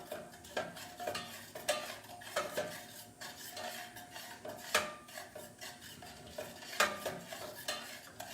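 Spoon stirring a tapioca-flour roux in a pan for a green bean casserole, giving repeated scraping strokes against the metal with soft sizzling underneath, close and steady without talk.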